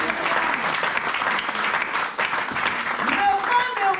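Church congregation applauding during a sermon, a steady wash of many hands clapping that holds for the whole stretch, with a voice briefly audible near the end.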